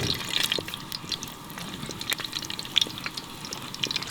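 Cinnamon, cloves, cardamom, mace and green chillies frying together in hot oil for chicken biryani give a close, steady sizzle with crackling pops throughout, without any talking.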